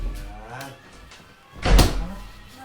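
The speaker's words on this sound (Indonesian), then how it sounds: "Suara apa sih itu? Pintu kan?" A door sound effect in a 3D horror sound piece set in a psychiatric hospital: one loud thud or slam near the middle, sitting among low ambient rumble and soft voices.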